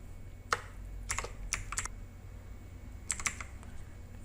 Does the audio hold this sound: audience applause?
no